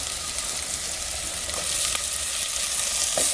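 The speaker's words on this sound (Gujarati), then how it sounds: "અને ટમેટું નાખી દીધું આપણે" Tomato frying with spiced corn in a pan at a village farm, heard as a dense, even, close sizzle that runs throughout with a few faint clicks, and no voices.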